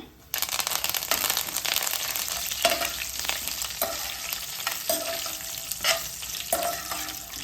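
Dried red chillies and curry leaves sizzle loudly in hot oil, a dense crackling hiss starting abruptly, with repeated stirring scrapes and spatter bursts at a close distance.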